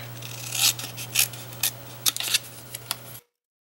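Scissors snip through paper cardstock in a quick run of close, crisp cuts, about a dozen short bursts of varying strength before the sound stops abruptly.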